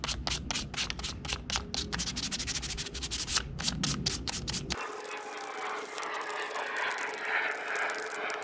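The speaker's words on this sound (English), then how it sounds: "Hit them with a little 320 sandpaper." Barbecue grill parts are rubbed with 320-grit sandpaper in quick, rhythmic strokes, close and fairly loud for about five seconds, followed by a softer, steady hiss.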